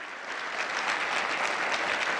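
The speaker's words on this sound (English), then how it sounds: "Let's give our hometown airline a big round of applause." An audience at the 2018 State of the Borough event gives a round of applause for JetBlue, a steady dense clapping that fills the room and holds throughout.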